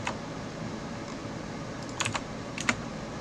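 Keys on a computer keyboard are tapped in a couple of short clusters over a faint steady background hum, close but fairly soft, with no talk.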